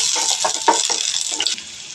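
Half an onion fries in two or three spoons of hot oil in a pan for soya curry, giving a steady close hiss and sizzle with soft stirring scrapes that fade slightly at the end.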